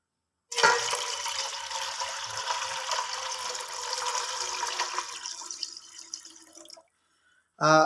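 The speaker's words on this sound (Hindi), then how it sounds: "तो पानी जो है मैंने इसमें डाल दिया है।" Water is poured into a cooking pot (degchi) in a kitchen for dhaba-style daal mash, a steady close splashing pour lasting several seconds before tapering off.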